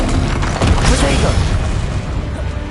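Protego shield spell in the Hogwarts Legacy video game, a booming shimmer that swells early and then settles into a dense humming wash over continuous game background.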